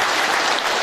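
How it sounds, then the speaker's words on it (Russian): Dense, even studio applause for a remote guest, a brief close wash of many hands clapping at steady loudness with no voices on top. "Давайте поаплодируем Сергею Викторовичу"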